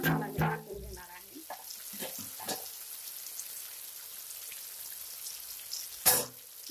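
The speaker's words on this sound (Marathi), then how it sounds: "हे पूर्ण मसाला मी टाकून घेणार आहे" Whole spices drop into hot oil in a pan and crackle briefly, then settle into a steady soft sizzle with a few pops, one sharper burst near the end.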